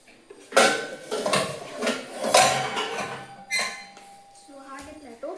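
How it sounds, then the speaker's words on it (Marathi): A metal cooking pot picked up and handled in a home kitchen, giving a series of close clanks, clinks and a squeak over about five seconds, with someone speaking over them. "सो आता आपण घेऊया टोप. तर टोप घेऊया."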